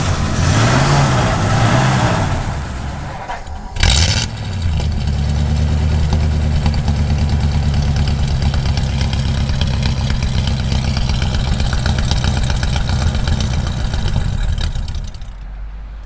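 A 1951 Ford F-1 pickup's engine idles close by with a steady, smooth low rumble, after a brief sharp burst near the start, then settles into an even idle before cutting out at the very end.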